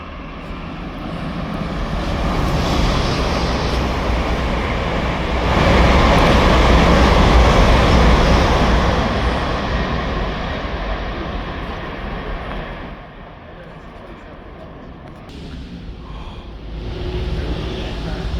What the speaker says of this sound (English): I haven't seen this train for a very long time.